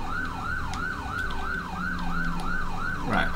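An ambulance siren in GTA V wails in a steady repeating up-and-down sweep, about eight cycles, loud and close over a low engine rumble, with no one talking.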